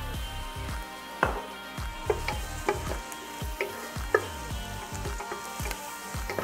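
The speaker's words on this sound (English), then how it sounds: "Now I'm going to add the garlic." Garlic frying in vegetable oil in a pan for Filipino mung bean stew: a steady close sizzle runs throughout, with regular scrapes and taps from stirring roughly every half second.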